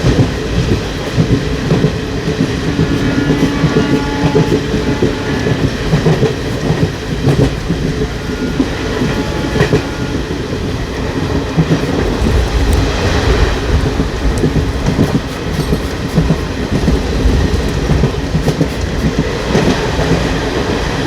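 A passenger train with a Vistadome coach rolls along the rails through scenic hill country in Jharkhand, a loud, continuous rumble and rattle of wheels and carriage that never lets up.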